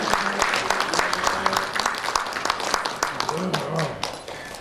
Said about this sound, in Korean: 여러분 뜨거운 축하의 박수 부탁드리겠습니다